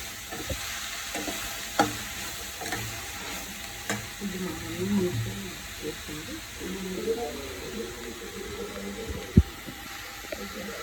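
Curry leaves hit a simmering dried prawn gravy, producing a moderate sizzle with scattered spattering pops and a voice talking softly underneath.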